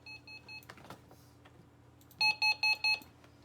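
Alert test beeps from a RadioShack 12-255 weather radio, played from a sound file: a few short tone bursts early, then four loud, evenly spaced beeps close up over a low steady hum.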